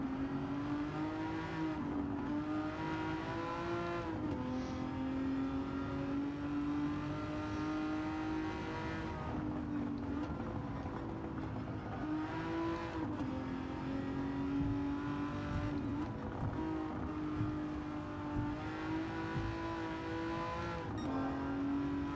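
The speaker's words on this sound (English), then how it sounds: "anti-lag on gives you those burbles as you lift off the gas" Aston Martin DB11 racing in Gran Turismo 7 on the Tokyo Expressway, engine droning steadily at high revs with small pitch shifts as it lifts and reapplies throttle, fairly quiet and continuous.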